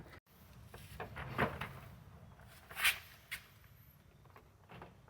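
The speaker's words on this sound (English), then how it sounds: "we're going to try to pull this door off now" A door panel being pried off a 2009 GMC Sierra 1500: faint plastic clicks and pops and a couple of sharper snaps over a quiet background, spread out over several seconds, with no speech.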